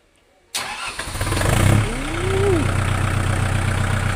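A car engine fires up and rumbles loudly through a newly fitted exhaust, briefly revving before settling into a deep, throaty idle close by.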